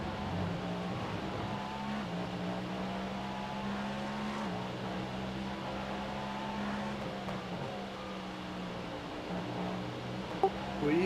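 A race car engine hums steadily through an in-lap in the iRacing sim during a 24 Hours of Le Mans race, a constant drone without voices.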